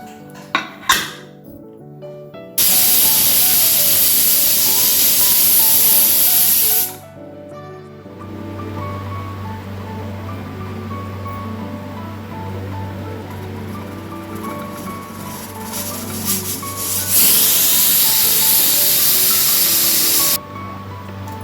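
A pressure cooker of raw banana and yam curry hisses steam in two loud, sustained bursts about four seconds long each, separated by a quieter stretch with a low hum and faint clinks.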